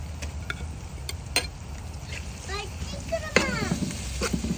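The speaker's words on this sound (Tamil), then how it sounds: "சமைக்கிற உள்ளி இஞ்சி இன்னும் கொஞ்சம் கருவேப்பிலை போடுறேன்" Garlic, ginger and curry leaves fry in a pan over a wood fire, a steady sizzle with scattered sharp crackles and pops, several louder bursts near the end.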